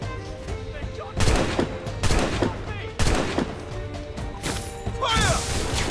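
Repeated bursts of gunfire in Assassin's Creed Rogue, several sharp volleys and crashes spaced about a second apart, loud and close over a steady background of battle noise and shouting voices.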